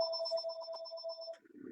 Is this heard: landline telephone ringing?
yes